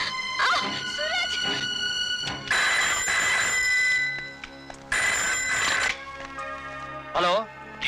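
A telephone rings in repeated loud bursts with a bright, tonal trill, while voices speak in between the rings.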